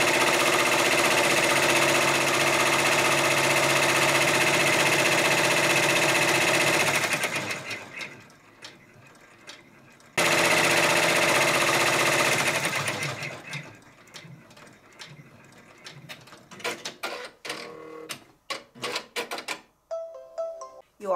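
A multi-needle embroidery machine stitches a table-topper kite in a steady, loud, whirring rhythm, then slows and stops with clicking trims and mechanical ticks.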